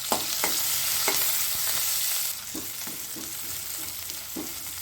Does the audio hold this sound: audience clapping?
no